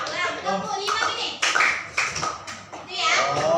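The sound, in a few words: children clapping in a clapping game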